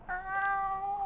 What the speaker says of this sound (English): purring, meowing